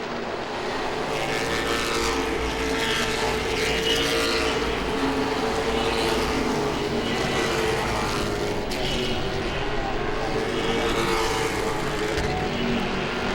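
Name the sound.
late model stock cars racing at Langley Speedway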